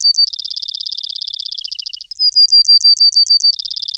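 A sparrow chirps in rapid, steady trills of bright, high notes, close and loud, shifting partway through to slower, evenly spaced chirps before the fast trilling resumes.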